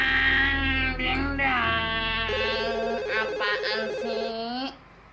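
A telephone rings in a warbling, shifting melodic tone over several seconds, with a voice or meow-like sound mixed in, loud and close, then cuts off.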